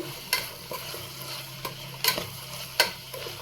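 A pan of veg pulao being stirred: several sharp scrapes and clacks of a spoon at irregular intervals over a quiet background sizzle, with no voices.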